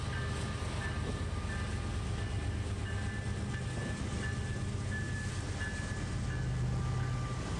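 A Norfolk Southern NS-39G freight train, a manifest led by a GB38-2 locomotive, rumbles steadily past at close range with continuous rail noise and a faint high squeal.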